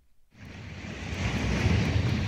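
Ocean waves relaxation sound from a Google smart speaker, rising out of silence into a continuous broadband surf rush that swells and holds steady, moderately loud with no voices.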